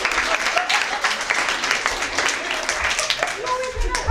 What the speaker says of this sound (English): Give Sparky a big round of applause.